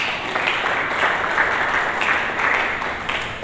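A church congregation at a Sunday sermon breaks into dense, sustained applause, many hands clapping at once in a steady roar that holds at an even level throughout.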